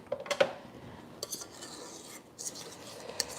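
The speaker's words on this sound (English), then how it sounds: "scrape the sides of your bowl using a spatula and keep it going" A spatula scrapes around the sides of a mixing bowl of gluten-free vegan compost cookie dough, giving several short, close scraping and clinking strokes at an uneven rhythm.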